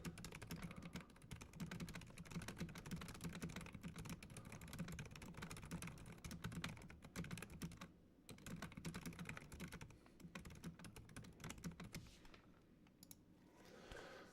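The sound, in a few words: typing fast on a computer keyboard in a typing race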